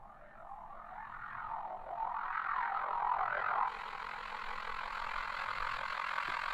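A 'bruh' vocal sample run through heavy grain delay and pitched up becomes a warbling, sweeping electronic texture that swells in the middle, then settles into a steadier, brighter drone.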